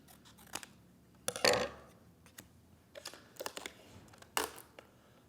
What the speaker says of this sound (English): my rectangle is too tall, so I'm going to trim that down too